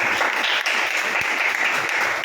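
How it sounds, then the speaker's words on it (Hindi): A church congregation claps together in a dense, continuous burst of applause, loud and sustained for a couple of seconds. "बजाओ ताली यीशु के नाम।"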